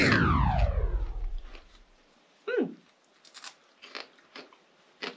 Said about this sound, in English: It's like a perfect little crunchy snack.